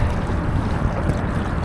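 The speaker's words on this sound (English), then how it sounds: "this wind is crazy" Strong gusty wind batters the microphone while kayaking on the water, a loud steady low rumble of buffeting with no voices.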